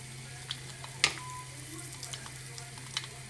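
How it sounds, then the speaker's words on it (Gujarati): Mustard seeds, asafoetida, curry leaves, red chilli and peanuts sizzle in hot oil for a tempering: a soft, steady sizzle under a low hum, broken by a few sharp pops and crackles. "આ વઘાર થઈ ગયો છે રેડી"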